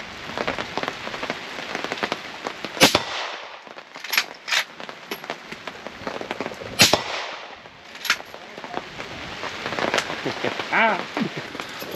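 A new hunting rifle fires several sharp, loud shots at close-range steel targets outdoors, with faint metallic rings from the steel. Steady rain-like patter and background noise run throughout, and voices can be heard.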